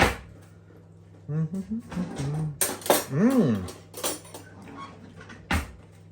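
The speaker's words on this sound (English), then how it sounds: "now I'll get a spoon" A spoon clinks and taps against a Ninja Creami ice cream tub in a few sharp, scattered knocks, mixed in with children's voices talking nearby.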